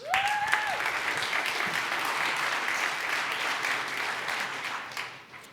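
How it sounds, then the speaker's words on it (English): A conference audience at JupyterCon 2023 breaks into sustained applause, dense and even clapping filling the room throughout, with a short rising electronic tone at the start and the clapping tapering off at the end. "Big round of applause."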